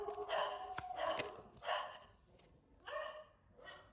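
A dog barks several times nearby, sharp separate yaps spaced out over a few seconds with brief pauses between.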